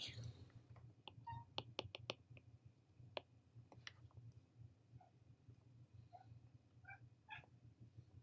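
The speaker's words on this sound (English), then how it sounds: "I don't know if you can hear my cat, she's demanding attention" A house cat meows for attention indoors, several short faint mewing calls scattered across the stretch, with quiet background hum and a few soft clicks between them.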